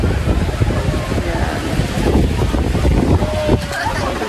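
Strong wind buffets the microphone in a constant roar, with faint voices and outdoor sounds underneath, at a hilltop picnic grove overlooking Taal Volcano in Tagaytay.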